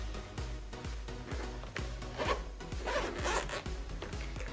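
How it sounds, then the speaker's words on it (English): The zipper on a DJI Mavic Air drone case is pulled open up close in a quick series of rhythmic rasping strokes, about two to three per second, loud and clear with nothing else heard. "It's a nice case, feels very nice, the material, easy to zip open."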